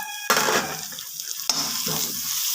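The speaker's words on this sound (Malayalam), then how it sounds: "നന്നായി ഒന്ന് ഇളക്കിയേക്കാം ഉള്ളിയൊക്കെ നന്നായി വഴന്നിട്ടുണ്ടായിരുന്നു" Sautéed onions and spiced egg are stirred in a hot pan, with sharp bursts of sizzle as the mixture hits the metal, scraping strokes and a steady frying hiss that stays close and moderately loud.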